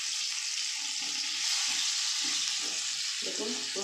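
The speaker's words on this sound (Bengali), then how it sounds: "বাস আমার আলুটা একদম মোটামুটি একটা ভাজা হয়ে গেছে।" Potato pieces frying in oil in a pan while a chicken curry is being made, a steady hissing sizzle with occasional stirring scrapes, close and continuous.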